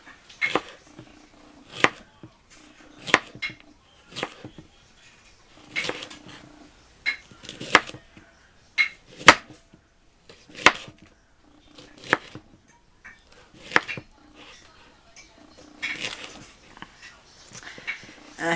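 A knife slices through bell peppers of yellow, red and orange varieties on a cutting board, with repeated crisp cuts at an uneven, roughly steady pace, close and clear against a quiet background.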